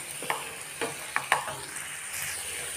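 Onions and tomatoes sautéing in a pan for butter chicken, with a soft steady sizzle and several clattering scrapes of a spoon stirring through the mixture, close by and without talk.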